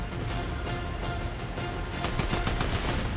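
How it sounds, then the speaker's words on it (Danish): Fortnite gunfire rattles steadily through dense game noise, growing into sharper, rapid repeated shots in the second half, with no talk over it. "Skyder dig bare ned fra bunden af"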